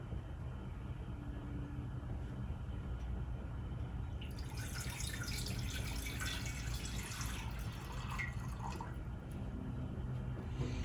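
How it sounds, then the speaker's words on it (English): Water is poured into a bowl or glass, making a soft, splashy rush that builds midway and lasts several seconds over a low, steady background hum. No talking. "Our prayer practice is to fill a bowl or a glass with water."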